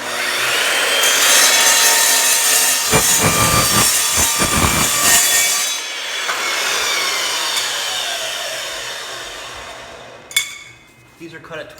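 Hand saw cutting through wood pieces for a big garage tire rack, a loud steady rasping with quick rhythmic bursts of strokes midway, then fading to a few light knocks and scrapes at the end.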